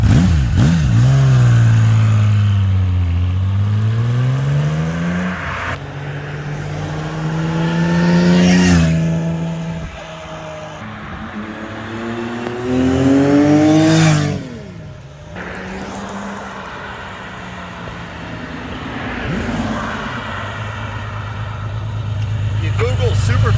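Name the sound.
1982 Kawasaki KZ1300 six-cylinder motorcycle stock exhaust revving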